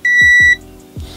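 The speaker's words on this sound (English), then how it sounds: "And there we go, we triggered continuity buzzer." An Aneng multimeter's continuity buzzer sounds once, a loud, clear, high-pitched tone lasting about half a second. Sharp clicking thumps from the probes touching come before and after it.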